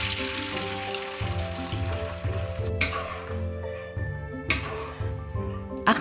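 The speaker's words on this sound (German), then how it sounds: "Gewürzwasser durchsieben und in die Pfanne geben." Strained spice water poured into a hot pan of spring onion, ginger, garlic and tomato paste, a steady close sizzle with a few sharp splashing hits from the pour, no speech.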